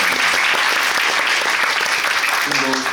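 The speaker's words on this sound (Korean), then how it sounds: "박수 주세요" Theatre audience at a stage talk event applauds warmly, a thick continuous wash of clapping with a voice briefly speaking near the end.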